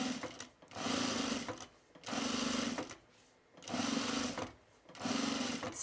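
A sewing machine stitching an understitch along a trouser pocket seam, running in four steady whirring bursts separated by short pauses, close and clear with no voices.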